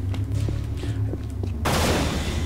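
A weapon fires in the Unreal video game at Na Pali Haven, a short burst of loud gunfire blasts that suddenly swell into a dense, sustained roar after a stretch of low rhythmic thumping.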